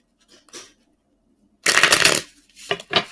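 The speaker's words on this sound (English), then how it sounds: "let me go ahead and shuffle the rest of these cards for you guys" Tarot cards are shuffled in a few short bursts: two faint riffles, a louder riffle lasting about half a second, then two more quick riffles close by.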